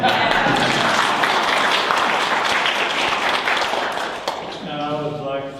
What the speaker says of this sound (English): And a little clap for his son.